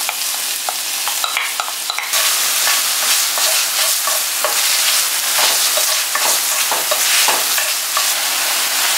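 Garlic and onion stir-fried in a pan give a loud, steady sizzle, broken by repeated scraping and stirring clicks from start to finish.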